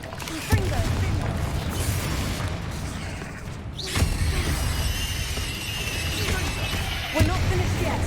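Confringo spell blasts in Hogwarts Legacy land as three evenly spaced booms over a dense bed of game noise, with a voice speaking in between.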